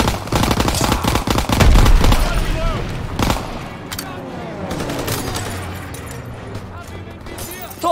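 Loud Call of Duty WW2 gunfire with rapid machine-gun bursts and booming shots that dominate the opening seconds, then fade into ringing echoes, with shouted voices mixed in.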